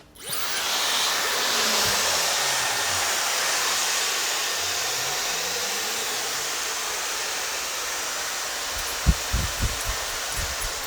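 Two Dyson hair dryers blow steadily on low pressure while a model's hair is dried on stage, a broad continuous rush that holds for most of the stretch, with a few soft knocks near the end.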